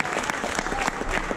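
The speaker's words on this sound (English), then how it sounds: "Let's get a round of applause." Crowd applauding at a fighting event weigh-in as a competitor is presented, lively clapping mixed with cheers and voices, fairly loud and close.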